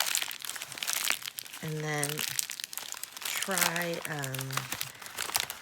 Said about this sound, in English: So I'm going to try crumpling this up and just spending some time today working on the crumple.